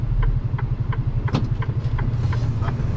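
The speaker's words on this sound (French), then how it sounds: "on va laisser passer le bus" A bus passing through street traffic in northern Marseille, a steady close engine rumble with a pulsing low drone throughout and faint mid-range clatter, continuous and fairly loud.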